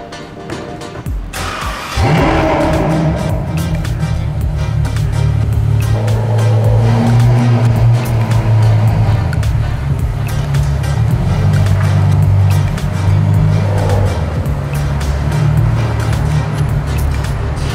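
A Ferrari F12 fitted with an Innotech IPE exhaust roars in loudly after a brief near-silent opening, then holds a deep, sustained engine drone with swelling revs for the rest of the run.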